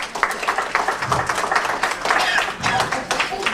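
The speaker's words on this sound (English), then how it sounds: "Give yourselves a big hand clap." A crowd claps together in a dense, scattered burst of applause, steady for a few seconds, with some voices mixed in.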